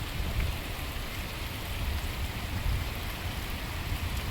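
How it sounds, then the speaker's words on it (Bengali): Rain begins to fall, a steady, moderately loud hiss of drops with some low rumbling underneath and no voices. "আস্তে আস্তে বৃষ্টি শুরু হয়ে গিয়েছে"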